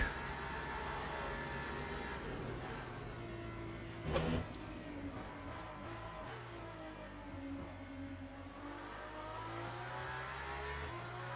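A Le Mans hypercar in a racing video game drones steadily at high speed while overtaking, its engine tone rising and falling through the gears, with a brief louder burst partway through and no talking.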